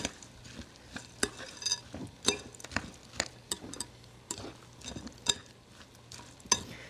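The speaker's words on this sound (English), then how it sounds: "So if we stir it around, they'll start defrosting really quickly." A spoon stirs frozen peas into hot potato in a pan while cooking Indian chickpea wraps. Steady, close scraping and clicking strokes repeat in an uneven rhythm, with faint sizzling underneath and no talk.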